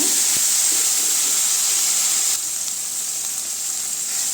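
Loud, steady sizzling hiss of tomatoes sautéing in a hot pan, continuous throughout, easing slightly partway through.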